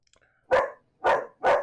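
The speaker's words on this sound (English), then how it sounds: "who's she barking at? Probably some neighbor or a cat outside." A dog barks three times indoors, sharp close barks in a quick uneven rhythm after a brief silence, with no talking.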